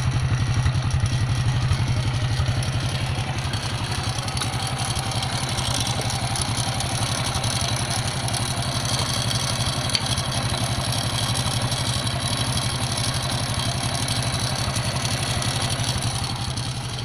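A Honda XRM 110 motorcycle engine idles steadily and close, with a constant low rumble and a fine, continuous clatter from a worn timing chain and faulty tensioner running throughout, with no talking.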